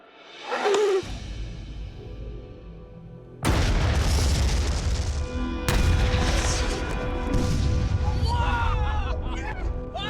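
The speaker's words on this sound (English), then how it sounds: "this is Knock Your Socks Off using a 500-pound explosion" A 500-pound explosive charge detonates outdoors at a test range, a massive loud boom that erupts suddenly and rumbles on, followed by a second heavy blast wave and a long roaring decay with debris noise.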